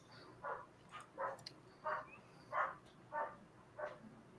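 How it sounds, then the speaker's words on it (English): Several dogs barking from inside a house, wanting to be let out, in a steady run of seven sharp barks about every two-thirds of a second, moderately close against a quiet room. "It sounds like the dogs want to go out again, Sob."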